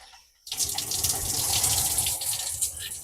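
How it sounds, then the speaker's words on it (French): Water starts abruptly and runs steadily from the shower head in a converted bus, a close, continuous hissing spray with no talking. "Sur le pommeau de douche ici, il y a des réglages à faire."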